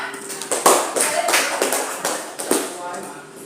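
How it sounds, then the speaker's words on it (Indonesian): Pupils in a classroom give a round of applause for everyone, a short burst of uneven hand claps, close and fairly loud, fading after a few seconds. "tepuk tangan untuk semua"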